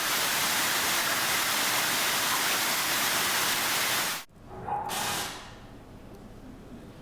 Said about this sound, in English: here's another example of sound from rain